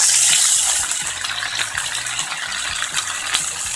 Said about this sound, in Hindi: इसमें पानी का डालेंगे ताकि मसाला नहीं जले